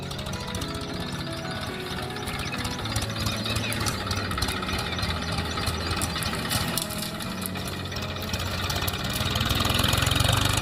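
A tractor engine runs steadily throughout with a continuous mid-low rumble, growing slightly louder toward the end, with no talk over it.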